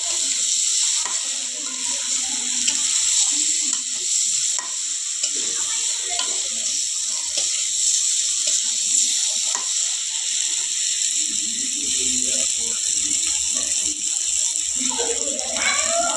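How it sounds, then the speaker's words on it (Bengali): Potatoes with salt frying in a pan for a vegetarian potato curry, a steady bright sizzle with rattling stirs and scrapes throughout, close by, with a voice talking over it. "লবণ দিয়ে এবার আলুটাকে ভালো করে কষাচ্ছি।"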